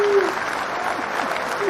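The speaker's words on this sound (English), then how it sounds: "I love the applause" Live audience applause at a business event fills a short burst of clapping and crowd noise, loud and continuous, with a voice faintly heard over it.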